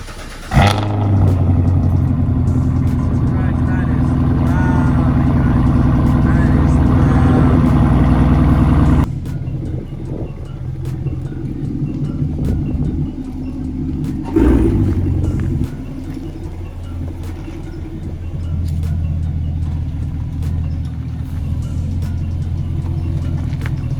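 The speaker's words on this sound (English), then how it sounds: "So we got another cold startup." A Chevrolet Camaro SS V8 cold-starts with a loud crank and flare, holds a high, steady rumbling fast idle, then settles to a lower idle with a brief blip partway through.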